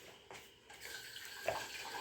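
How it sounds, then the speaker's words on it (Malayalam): Water is poured into a cooking vessel to melt jaggery for unniyappam, a faint, soft trickle that starts shortly after a quiet beginning and runs on to the end. "നമുക്ക് കുറച്ച് അളവ് വെള്ളം ഒഴിക്കണം"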